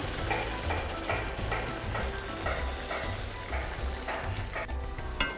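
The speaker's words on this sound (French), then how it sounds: "Vous voyez les lentilles qui mijotent tout doucement." Red lentils simmer gently in a pot, giving a soft, continuous bubbling and sizzling texture with faint clicks throughout and one sharper tap near the end, no voices.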